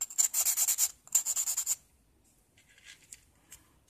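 A nail file being cleaned by rubbing it against an old, unused nail file: two bursts of dry, bright scraping strokes close to the mic, then quieter faint scratches.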